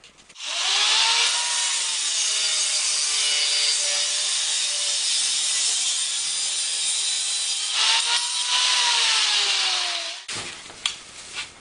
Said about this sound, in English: I'm going to cut this off with an angle grinder